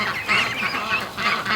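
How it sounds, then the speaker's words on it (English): Adult ducks quacking loudly and frantically in a backyard pen, a dense overlapping chorus of honking calls close by, rising in bursts with no talking. "the poor adult ducks are just going nuts"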